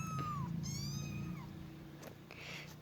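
A kitten learning to walk gives a few thin, high-pitched meows, one short, then a longer wavering cry and a brief squeak, fairly faint and close, with no talk.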